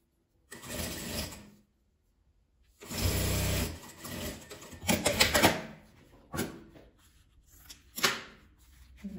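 A sewing machine stitches denim patchwork strips in loud, close bursts separated by short pauses, with a steady mechanical whir during each run of stitching.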